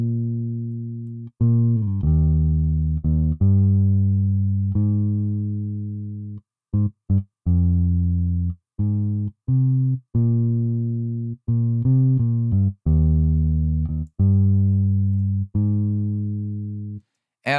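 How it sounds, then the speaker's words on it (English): Synth lead playing legato lines with pitch-bend slides gliding from one note to the next, a loud, clean, sustained tone in phrased bursts with short gaps between them, no talking. "I can then do really nice legato slides from one note to the next"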